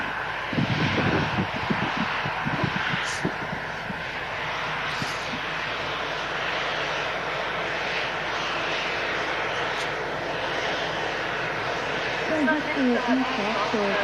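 A passenger aircraft rumbles at a plane-spotting location, a broad steady roar that holds throughout while people talk nearby.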